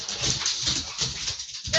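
A pile of puppies in a puppy training class gives soft, restless whimpers and snuffles, close and fairly quiet, in an irregular stream of small cries.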